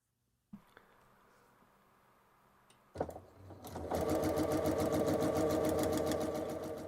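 A sewing machine chain-pieces quilt blocks in sped-up playback, starting with faint handling noise and a few clicks, then breaking into a loud, fast, even stitching rattle that runs steadily to the end.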